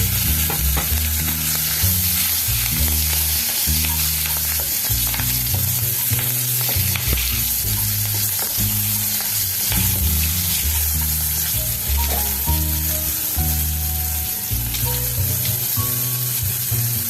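Panch phoron and a few green chillies hitting hot oil in a pan, a loud continuous crackling sizzle with scattered pops and stirring scrapes throughout, with faint music in the background.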